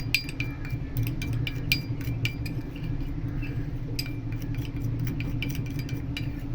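A spoon clinks repeatedly against a glass or bowl while tomato juice, honey and a third ingredient are stirred together, light irregular taps over a steady low background hum.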